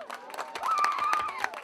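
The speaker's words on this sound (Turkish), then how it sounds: "Hadi bir alkış şuna millet." Wedding guests at a Turkish-language celebration clapping in a lively, irregular patter, moderately loud, mixed with crowd chatter and a sustained whistle or instrumental tone in the middle.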